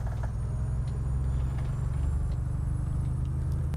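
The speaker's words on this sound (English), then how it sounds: "this truck with that sort of really loud engine" A heavy Iveco Stralis truck engine in Euro Truck Simulator 2 rumbles steadily and loudly throughout, a deep continuous low drone with faint higher whine above it.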